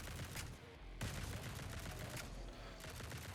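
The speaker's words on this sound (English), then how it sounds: "we're shooting out 35 railguns" Railgun fire from the video game Grind Survivors, with about 35 railguns going at once on endless mode, comes as a dense, unbroken barrage of rapid shots that stays steady and loud from start to finish.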